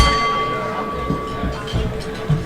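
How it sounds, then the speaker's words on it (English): A bell struck at a Rotary Club meeting in Tucson rings with a sustained steady tone that fades slowly, accompanied by low room rumble and scattered knocks. "Ring that bell, Bobby."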